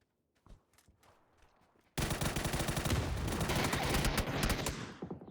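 Gunfire in the battle game PUBG during a clan match: a few faint shots and footsteps give way to a loud, sustained burst of rapid automatic fire that rattles on for several seconds before trailing off.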